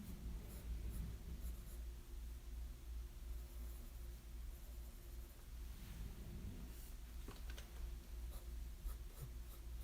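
A pencil sketches on paper with close, soft scratching strokes in uneven bursts, some short and quick, others longer, with faint background hiss and no talking.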